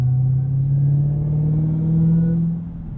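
A loud supercharged Hemi V8 in a Dodge Challenger SRT Jailbreak rumbles and revs steadily with a rising tone, then eases off near the end; any supercharger whine is buried in the roar.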